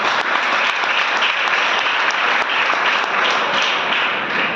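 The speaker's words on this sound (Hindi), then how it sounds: "तो आप लोग आए हैं तो आपके लिए एक बार जबरदस्त ताली होनी चाहिए।" Loud, sustained applause from a sizeable crowd, a dense wash of clapping that holds steady throughout.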